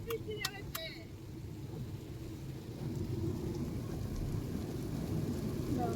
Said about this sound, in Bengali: জোর বৃষ্টি নেমেছে তার মধ্যে দিয়ে আমরা যাচ্ছি